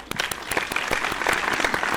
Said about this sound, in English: Let us give a warm round of applause wherever you are listening from to Dr.